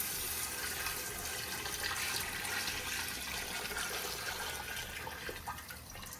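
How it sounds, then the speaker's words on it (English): Chicken broth made from bouillon and a gallon of water pours steadily into a soup pot for a copycat Zuppa Tuscana, a continuous rushing splash that stays loud and even, then thins slightly near the end. "Now we're going to add our chicken broth. And this is just chicken bouillon in water."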